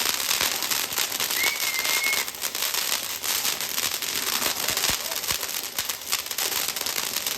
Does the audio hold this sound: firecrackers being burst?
yes